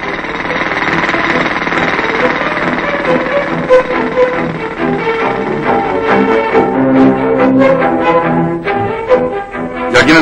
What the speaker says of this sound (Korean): 주위에 민가가 있어서 어려운 공사를 하고 있는 곳이다.